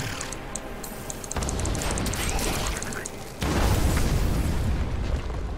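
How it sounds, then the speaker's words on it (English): Grenades thrown by enemies explode in a Diablo 3 hardcore-mode battle, giving repeated booming blasts under a dense, loud game soundscape with small popping ticks on top, growing heavier partway through. "Are those explosions caused by us or them? They're throwing little grenades in."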